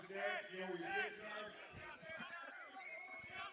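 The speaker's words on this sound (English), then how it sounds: "They all cheer. They love it here." Spectators cheer and whoop at a Can-Am summer lacrosse game between the Onondaga RedHawks and Tonawanda Braves, excited shouts rising and overlapping in a lively burst before tapering into scattered calls.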